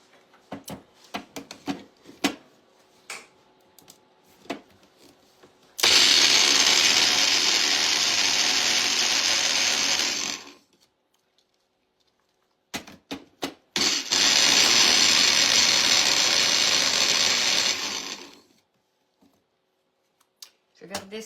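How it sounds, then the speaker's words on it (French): Blender mixing powdered sugar for lime fondant cakes, two loud sustained whirring bursts of about four to five seconds each separated by a pause, with faint clicks and handling noises between them. "On le met, on le ferme et on va mixer le tout."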